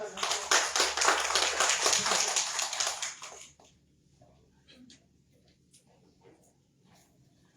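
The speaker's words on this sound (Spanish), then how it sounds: "dar un aplauso fuerte al doctor Chapelo" An audience at a scientific lecture on rabies claps for the speaker, a brisk burst of applause lasting about three seconds before cutting off into quiet room noise with faint movement.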